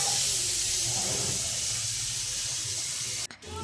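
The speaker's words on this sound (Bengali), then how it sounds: "ফুলকপি ভাজা স্টার্ট হয়ে গেছে, আওয়াজটা হচ্ছে দেখো গাইস।" Cauliflower frying in a pan at home gives a steady, fairly loud hiss that runs unbroken for several seconds, then cuts off briefly near the end before resuming.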